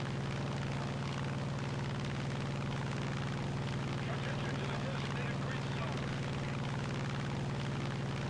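Steady, droning engine hum of a plane in the video game War Thunder, continuous and unchanging with a low buzzing tone, as a voice talks over it.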